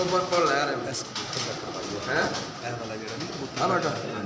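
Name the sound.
rare pigeons cooing on a rooftop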